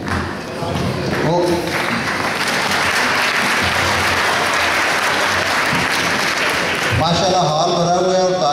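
A hall crowd at an Eid Milan party in Walthamstow claps steadily and loudly throughout, with a voice talking over the applause at the start and again near the end.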